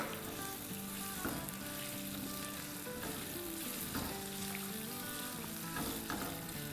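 Onions sautéing in oil for biryani, a dense continuous sizzle with occasional stirring scrapes, close and steady with no voices.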